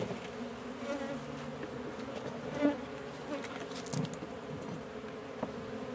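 Agitated honeybees buzz densely around an opened hive frame, a continuous close swarm drone with occasional louder passes near the hive.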